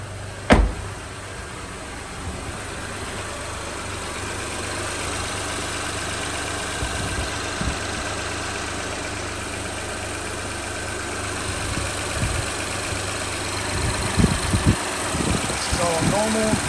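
A 2007 Honda Odyssey 3.5 engine starting with a sharp crank, then settling into a steady idle that runs throughout, joined by brief clicks and knocks near the end.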